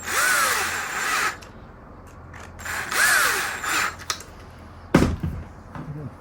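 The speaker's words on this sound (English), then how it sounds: "So we'll get these bolts in here. Same thing again, just do them up." A power drill drives bolts into a Traxxas Slash 2WD RC car: two whirring bursts of a second or so each, close and loud, followed by sharp clicks and a short final buzz.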